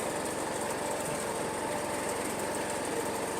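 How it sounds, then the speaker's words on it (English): A small lawn mower engine drones steadily while cutting grass, a close, even buzzing hum with a fast regular pulse throughout and no talking. "Mowing the lawn is a great time"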